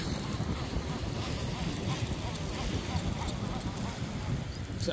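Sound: wind

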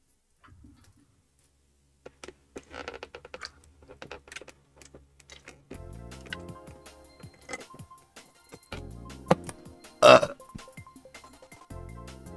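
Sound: burping

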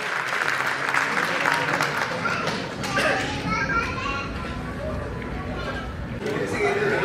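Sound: audience applause for the Chaaver film team

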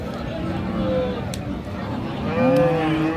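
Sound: cattle mooing at a cattle market

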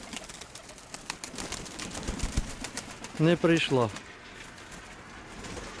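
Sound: pigeons cooing

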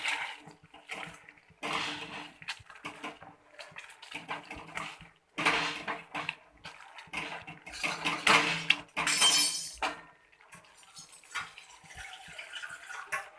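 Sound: mashing food in a pot

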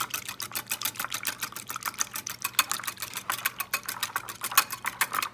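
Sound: whisking eggs and egg yolks in a small bowl

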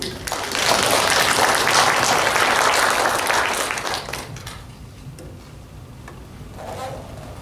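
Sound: audience applause welcoming a lecturer

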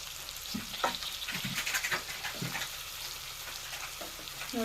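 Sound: stuffed brinjal frying in oil in a pan

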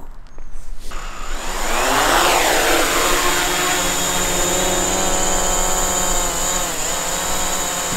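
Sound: DJI Mavic Pro drone propellers flying

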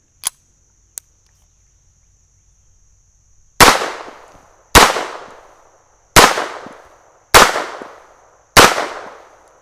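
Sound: Smith and Wesson Model 41 pistol shots

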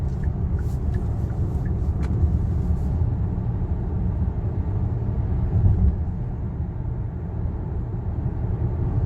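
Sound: Hyundai Palisade driving, accelerating on cruise control

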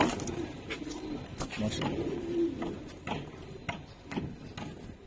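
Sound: pigeons cooing

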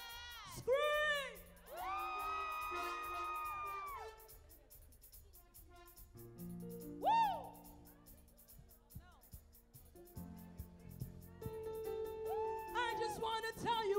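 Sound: crowd of children screaming and cheering

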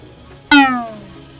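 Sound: dark cat monster meowing in video game

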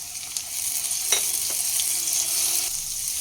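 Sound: green chilies and garlic paste frying

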